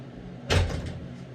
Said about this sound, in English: Oh, let me close the door.